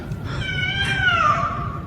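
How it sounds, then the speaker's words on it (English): A cat cries out in one long, drawn-out meow that rises and then slowly falls, close and fairly loud over a low background hum. "he heard the sound of a cat crying"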